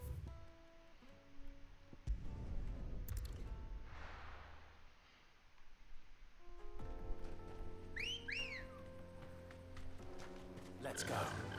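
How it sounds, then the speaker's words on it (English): A two-note rising cat-call whistle sounds in Final Fantasy 16, a short sharp pair heard once near the end of the stretch over ambient game music, with a voice talking earlier. "I don't think they should have added the cat call whistle"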